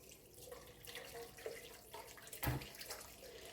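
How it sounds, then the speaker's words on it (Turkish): Hot water pours into a soup pot holding fried tomato paste, a brief splashing gush near the middle over a faint running-water background, with no talking. "Şimdi içine sıcak su ilave edeceğim."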